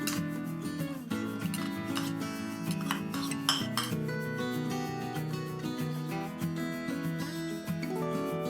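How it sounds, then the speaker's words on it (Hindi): Cabbage and carrot being stirred with mayonnaise in a bowl, a busy run of close clinks and scrapes of a utensil against the bowl, continuous and fairly loud. "बाउल पे मैंने कैबेज ऐड कर दिया है, कैरेट मिक्स कर लेंगे थोड़ा सा, फिर मिक्स करूंगी"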